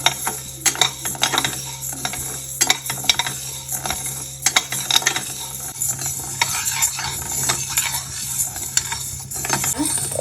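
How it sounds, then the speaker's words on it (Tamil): Urad dal dry-roasting in a pan, stirred with a metal spoon: continuous close scraping and rattling with frequent sharp clinks against the pan and a faint crackle beneath. "வானலில் போட்டு வறுத்துக்கிறேன்"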